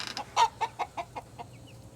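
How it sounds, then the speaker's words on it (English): A pet chicken in a small backyard coop gives a short series of soft clucks, a few closer and louder ones fading into fainter ones, with a low steady hum underneath. "pet chicken down here in her own little home"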